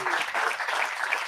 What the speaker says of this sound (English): let's show our appreciation to Brendan with another big round of applause